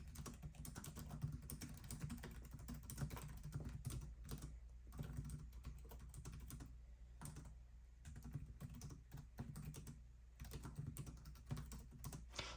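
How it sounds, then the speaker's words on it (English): Rapid, steady typing on an ASUS ROG Strix G17 (2022) laptop keyboard, close up, a continuous patter of light key clicks with the occasional heavier tap, no voices. "So I'll do a typing test here."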